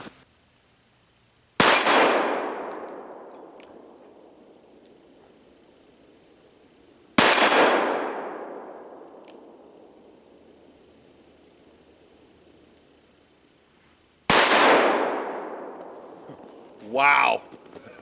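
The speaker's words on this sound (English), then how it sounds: "So let's go ahead and shoot these at the 6-inch plate and see if I can hit it any better." Three sharp, loud shots from a Smith & Wesson 686 .357 Magnum revolver crack several seconds apart, each followed by a long fading ring, as the rounds strike a distant six-inch steel plate; a brief voice is heard near the end.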